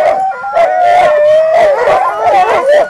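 Sled dogs waiting for a dogsledding run in Ely, Minnesota, howl and yip loudly and close by in overlapping wavering calls mixed with barks for the whole stretch.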